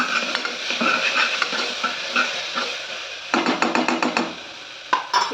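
Spiced tomato rice being stirred and sautéed in a pan, steady sizzling under brisk scraping strokes, then a quick run of rhythmic spoon taps and scrapes against the pan near the end, close and clear.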